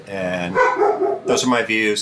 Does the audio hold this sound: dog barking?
yes